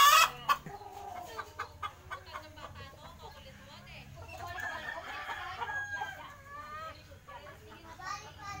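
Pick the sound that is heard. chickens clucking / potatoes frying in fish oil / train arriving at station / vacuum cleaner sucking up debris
chickens clucking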